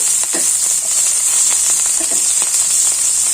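Small onions frying in about one and a half spoons of coconut oil in a pan, for an ivy gourd stir-fry with chili flakes: a loud, steady, close sizzling hiss broken by a few soft stirring clicks, with no voices.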